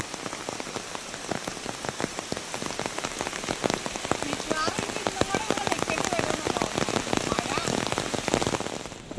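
Heavy rain pours down outside at a camping spot, a dense, continuous drumming of drops on surfaces, loud and close, with a faint voice briefly audible beneath it.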